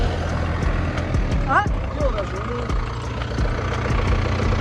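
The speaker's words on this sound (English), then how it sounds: "There's a tractor coming up." A tractor engine rumbles on a country road along the Via Francigena near Andria, a steady low drone that holds throughout while people talk over it.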